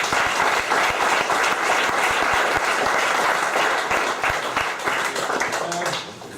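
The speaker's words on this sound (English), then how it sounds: "Give him a big round of applause" Crowd at a fight tournament applauding loudly, dense clapping with some distinct sharp claps standing out, steady for several seconds before tapering near the end, with faint crowd voices mixed in.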